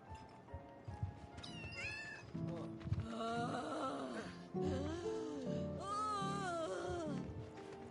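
An orange cat in the video game Final Fantasy VII Rebirth gives a series of clear, fairly close meows and drawn-out yowls, varying in pitch, with no speech over them.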